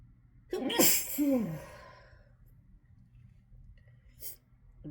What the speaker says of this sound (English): I'm like sneezing into my hand